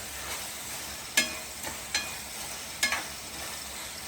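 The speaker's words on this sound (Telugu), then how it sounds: "ఇప్పుడు స్ప్రింగ్ ఆనియన్స్ యాడ్ చేసుకున్నాము ఇప్పుడు అవన్నీ బాగా మిక్స్ చేస్తున్నాం" Spring onions being stirred into a tomato and dried anchovy curry in a pan, a low sizzle broken by four sharp spoon-on-pan clacks spaced about a second apart.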